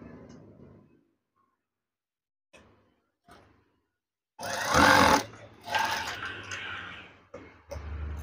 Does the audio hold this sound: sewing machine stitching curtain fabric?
yes